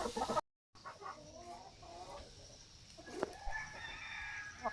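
A rooster crows once at moderate distance, a drawn-out cry over quiet outdoor background with scattered faint clucks.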